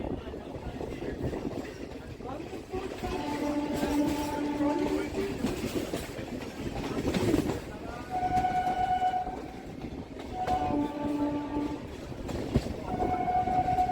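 A Sealdah–Canning suburban local train runs along the line near Ballygunge, with a steady rumble and clatter of wheels and carriages throughout and intermittent tonal horn-like squeals; faint voices are present.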